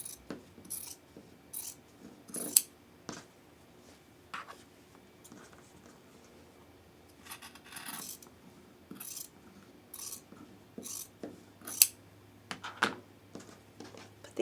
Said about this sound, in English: we're going to cut 1/4 inch away from the seam on the outside edge